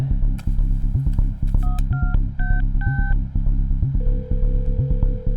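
Touch-tone keypad beeps sound as a phone number is dialed in a dubbed South Indian film scene, several short electronic tones in quick succession followed by a steady ringback tone, all over loud dramatic background music.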